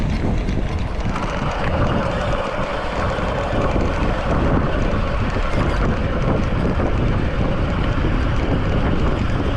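Steady wind blows hard against the microphone on a warm morning outdoors in Las Vegas, a constant loud roar and buffeting rumble filling the whole span with no voices.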